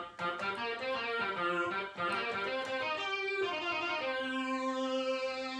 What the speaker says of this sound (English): Now this is the sound of the Yamaha FB1.